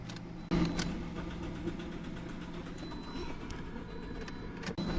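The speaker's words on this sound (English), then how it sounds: "And I'm cranking, we got nothing." A 2013 Toyota Corolla cranks without starting, its starter turning the engine over in a steady, fairly quiet whir that never catches into an idle.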